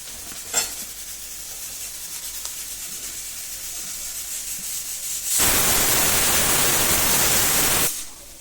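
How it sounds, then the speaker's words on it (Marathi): Onion with turmeric frying in a pan: a faint, steady hiss for most of the stretch, then a much louder, dense sizzle that bursts in near the end and stops abruptly. "कांदा चांगला भाजला याच्यामध्ये आपल्याला हळद घालून घ्यायची"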